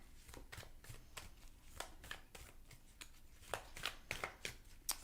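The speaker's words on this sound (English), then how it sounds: "Sorry if the shuffling is loud." Tarot cards being shuffled during a reading, a steady run of crisp riffling snaps and soft slides, close and fairly loud, with the bursts growing sharper toward the end and no talking.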